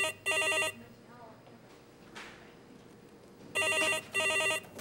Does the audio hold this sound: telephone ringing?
yes